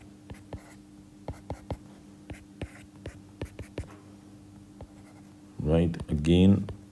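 Pen or marker strokes scratch across a board in short, irregular bursts while chemistry structures for terylene polymer repeats are drawn, followed by a brief stretch of talking at the end.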